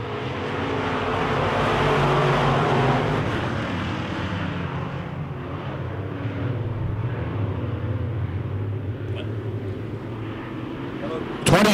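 Wissota Midwest Modified race cars roar at racing speed after a green flag on a dirt oval, a loud sustained engine wash that swells early then holds steady, with a commentator talking over it.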